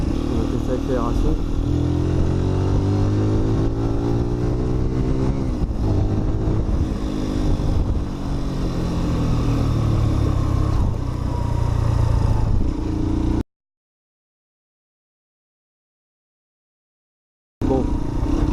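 Keeway RKV 125cc roadster motorcycle accelerating on the road, its engine note rising through repeated gear-by-gear sweeps, loud and close over wind, before cutting out briefly near the end.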